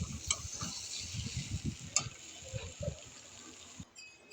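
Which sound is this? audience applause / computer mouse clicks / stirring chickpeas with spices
stirring chickpeas with spices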